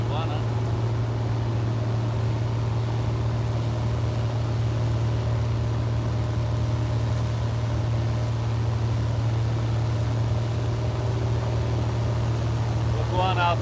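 A floatplane taxis out across a bay, its engine holding a steady droning hum with a low tonal buzz throughout, close and continuous, with voices talking over it.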